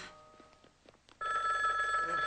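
A telephone bell rings loudly and continuously indoors, a bright sustained ring that starts abruptly after a quieter stretch of faint background sounds, in a 1989 film scene.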